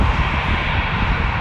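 Jet aircraft engines roar at Toronto Pearson airport, a steady, loud broadband rumble with no break and no talk over it.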